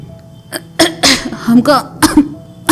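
Several sharp coughs come in quick bursts, close and fairly loud, with a raspy, strained voice breaking between them.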